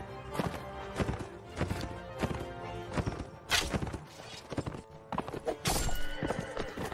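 Horse hooves in the game Mount and Blade Warband, a steady run of clip-clop hoofbeats with a whinny and battle clatter, loud and close, with no talk over it.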